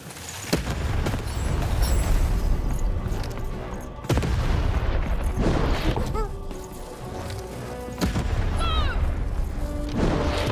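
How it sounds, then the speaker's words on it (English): Heavy cannon blasts boom at intervals over a dense Lost In Random game soundscape, with sharp impacts, whooshes and continuous background noise. "Shoot the button to fire the cannon."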